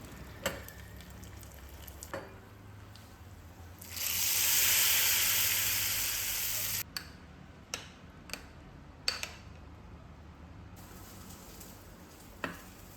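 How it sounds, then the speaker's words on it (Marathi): A loud burst of sizzling hiss as spice tempering hits hot oil, lasting a few seconds before cutting off, among scattered light clinks and taps. "आता मी वरून फोडणी देताना आहे"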